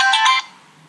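Mobile phone ringtone going off mid-lesson, a bright tonal chime lasting under half a second before cutting off, leaving a faint room hum.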